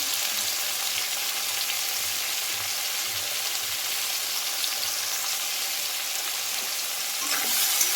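Continuous hiss and crackle of small fish frying in hot oil, steady and close, with a brief clatter near the end.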